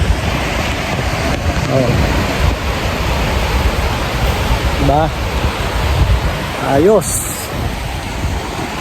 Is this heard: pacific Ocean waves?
yes